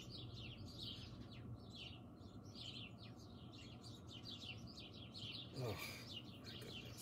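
Birds chirping nearby in rapid, repeated faint tweets over a steady low background hum, with a brief louder burst of noise partway through.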